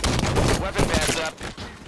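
Sniper fire in the Halo 5 video game, a burst of loud close shots crackling over the full clip, with a voice talking underneath.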